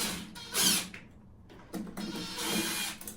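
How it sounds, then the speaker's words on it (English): Clamp screws on a boiler flue being released with a tool, short close mechanical whirring and ratcheting bursts separated by brief pauses, with no talking. "we've got two clamp screws there, which we'll just release"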